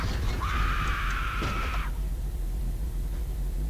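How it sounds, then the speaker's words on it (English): A woman's scream in the horror video game Paranormal, one sustained shrill cry lasting over a second, then a quieter stretch with steady background noise. "Stop screaming."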